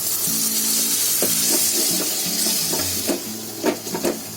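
Onion and tomato frying in a pan for a sponge gourd bharta, a continuous sizzle with a spatula stirring and scraping against the pan toward the end, close and alone.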